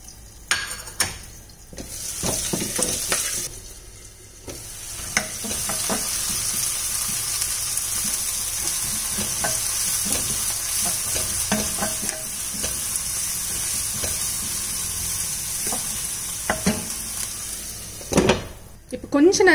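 Onions, mustard seeds, curry leaves, green chili and crushed garlic sizzle steadily in a pan, with bursts of stirring and scraping and a couple of brief pauses where the frying drops away.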